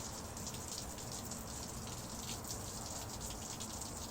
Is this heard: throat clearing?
no